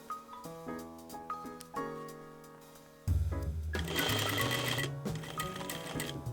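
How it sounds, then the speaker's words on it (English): Sewing machine stitching a bust cup on a milkmaid blouse, first as quiet separate bursts of stitching, then a loud, steady whirring run of fast needle strokes near the end. "Then you sew 1 bust cup, making sure everything is flat as you approach the point."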